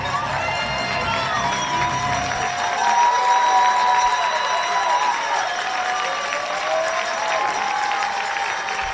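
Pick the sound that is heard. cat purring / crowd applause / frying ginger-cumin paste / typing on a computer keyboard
crowd applause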